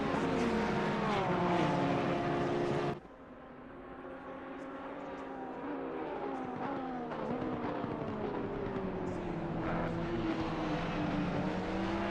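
GT race cars in Assetto Corsa Competizione, with a Porsche among them, scream along the track in an endurance event. Engine whines rise and fall through gear changes. The sound drops abruptly to a quieter onboard drone that then builds again.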